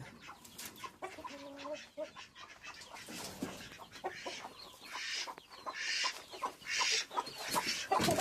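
A hen clucks in short, intermittent calls while roaming outdoors with her chick, moderately close, with a faint voice and soft rustling background.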